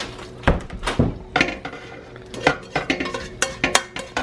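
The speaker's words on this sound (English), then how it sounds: "So I'll dump it all in here. That's a big old pot right there." Homemade copycat Wendy's chili dumped into a big pot, a series of close clanks, scrapes and thuds of a utensil knocking against the metal pot, irregular and fairly loud, with no talk.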